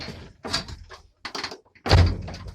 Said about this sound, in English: Do I need to close this door behind me?